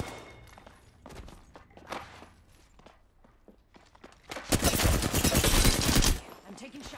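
Rapid bursts of automatic gunfire and single shots in a first-person shooter, growing into a dense, loud volley near the end, with footsteps and movement between the firing.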